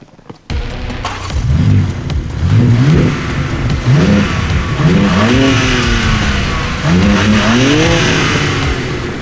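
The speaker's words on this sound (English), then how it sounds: "this is one hell of an engine" Dodge Charger SixPack straight-six engine revving hard, with loud, close, repeated rising pulls that climb and fall several times without any speech.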